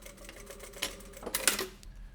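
A sewing machine stitches along the outside edge of a homemade N95-style mask made from sterilization wrap, a brief quiet run of mechanical needle clatter that picks up and ends abruptly, no talking.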